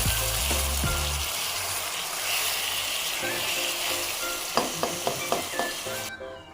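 Half a kilo of chicken fries in a pot for chicken pulao, a loud, dense sizzle running throughout with a few low knocks early on and a string of spoon taps and scrapes near the end.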